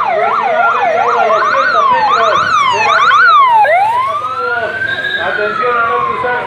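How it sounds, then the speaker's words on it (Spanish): Loud police motorcycle siren close by leading cyclists in a Mendoza road cycling race prologue, wailing and yelping in rapid sweeping cycles, then a long rising wail, with a voice talking underneath. "ya se acerca la moto de la policía, ya se acerca los ciclistas"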